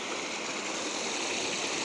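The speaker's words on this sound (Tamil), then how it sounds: "ஒரு சின்ன ஓட்டக்குள்ளே இருந்து அப்படியே தண்ணி இப்படி குப்புற போகிற மாதிரி கீழே கொட்டிகிட்டு இருக்கு ஃபால்ஸ் மாதிரி தான் இருக்குது" Water forces its way through a narrow gap and tumbles down like a small falls in a forested hill area. It makes a steady, close, full rushing splash that stays even for the whole stretch, with no voices.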